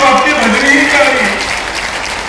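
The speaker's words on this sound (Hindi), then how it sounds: "जरा जोरदार ताली तो आपकी बजनी ही चाहिए" A crowd gathered at a development-project inauguration in Rajendra Stadium, Mahagama, Godda, claps loudly and steadily while a voice carries over the applause.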